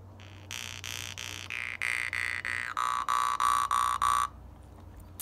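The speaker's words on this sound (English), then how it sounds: "So, without your lips touching it, it sounds like this." A Siberian vargan mouth harp is played without the lips touching, giving about a dozen bright twangy plucked notes in a quick even rhythm with a buzzing, shifting tone, close and alone.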